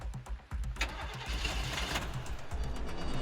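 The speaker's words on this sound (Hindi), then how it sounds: "काजल कार स्टार्ट करने की कोशिश करती है, पर कार स्टार्ट नहीं हो रही।" A car engine cranks repeatedly as someone tries to start it, a close, rapid churning starter sound that strains on without catching into a steady idle.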